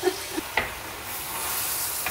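Mutton sautéing with spices in a pan gives a steady, soft sizzling hiss, with a couple of brief stirring scrapes near the start and no talk.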